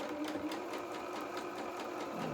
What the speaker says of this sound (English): we'll just start and sew around this curve